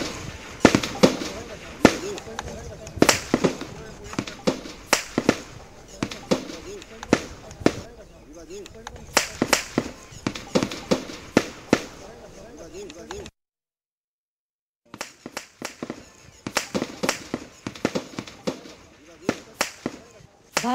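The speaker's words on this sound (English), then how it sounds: "Let's just listen to the firing taking place." Rapid bursts of sharp, cracking gunshots in Bhakna Kalan village near Amritsar, some in quick strings and others isolated, with a short silent pause partway through and faint voices around them.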